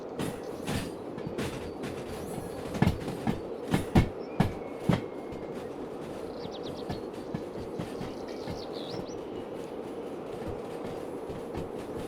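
An electric locomotive in the Derail Valley game runs on rails over tonnage, giving a steady rumbling roll with a burst of sharp clanks and wheel knocks midway, alone and fairly close.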